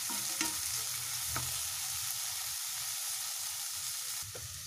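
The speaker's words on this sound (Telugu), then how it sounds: "అల్లం వెల్లుల్లి పేస్ట్ పచ్చి వాసన పోయేదాకా వేయించుకోవాలి।" Ginger garlic paste and onions frying in a pan for mirchi ka salan, a soft steady sizzle with a few stirring clicks of a spoon, close and quiet without talk.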